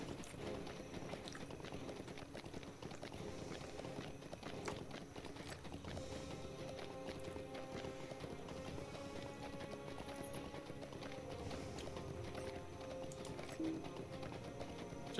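Horse hooves clip-clop steadily in a video game, a rhythmic trotting patter heard close over game ambience, with no talk.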